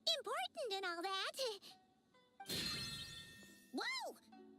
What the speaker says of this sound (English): Why is the bell ringing all of a sudden?